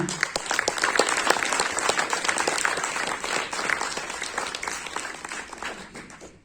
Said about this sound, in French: Un applaudissement pour vous tous.